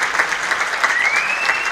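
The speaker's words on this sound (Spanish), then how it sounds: "Ese aplauso es muy fuerte" Loud, dense applause from a concert audience for a band performing with a chamber orchestra, steady throughout, with a faint rising tone threading through the clapping.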